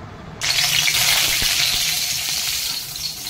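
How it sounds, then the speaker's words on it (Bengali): Dried red chillies, bay leaves, five-spice mix and cardamom dropped into hot oil for a jamun pickle, a sudden loud sizzle bursting in after a quiet moment, then a steady crackling fry that slowly eases. "এই আমার তেল গরম হয়ে গেছে, ফোড়ন দেবো শুকনো লঙ্কা, তেজপাতা আর এই 5 ফোড়ন এলাচ"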